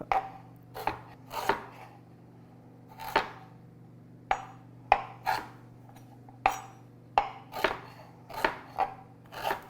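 Fresh ginger, its skin scraped off, gets a rough chop with a knife on a cutting board: about a dozen sharp, crisp knocks come in an uneven rhythm, close and fairly quiet, with no voices.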